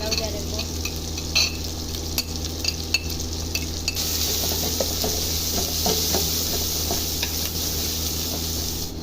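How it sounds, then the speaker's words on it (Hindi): Spices fry and get stirred in a pot for egg kofta biryani, a steady soft sizzle under scattered metal scrapes and clinks of the spoon against the pan, close and moderately quiet. "अभी हमने सिर्फ स्पाइसेस को भूनना है"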